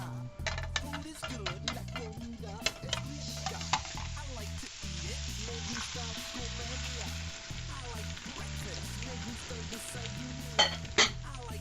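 Spanish tortilla of egg and potato frying in a pan after being slid back in, with a steady sizzle broken by scraping and stirring taps from a utensil, close and continuous without talk.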